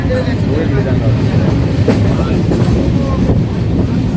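A local train on the Savarde to Mumbai run rolls along the rails with a steady, loud, continuous rumble and faint rhythmic wheel clatter throughout, heard from inside the carriage.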